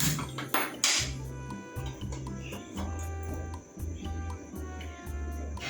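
A metal kadai is handled on the gas stove, with a few loud clanks and scrapes at the start followed by a steady background of rhythmic low clattering and hum.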